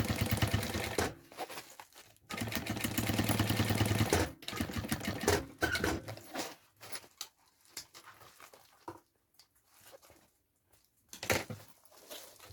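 A sewing machine topstitches the second side of a synthetic-fabric seam on a small backpack, running in loud bursts of rapid mechanical stitching that start, stop and restart, with quieter pauses of handling between runs.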